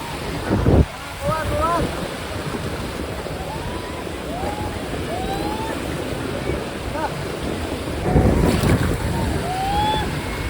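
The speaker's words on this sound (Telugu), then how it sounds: "నన్ను కొట్టేస్తురుగా పెద్ద పెద్ద అలలు" Big sea waves crash and surge at a beach in Goa, two loud heavy breaks standing out over a steady roar of surf and wind buffeting the microphone, with excited voices calling out over the water.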